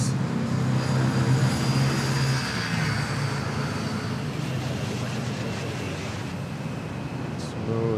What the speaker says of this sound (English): Smooth takeoff there.